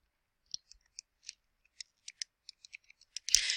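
Numbers typed on a calculator keypad in degree mode: a quick, irregular series of crisp, light plastic key clicks, close and isolated, ending in a brief louder rustle.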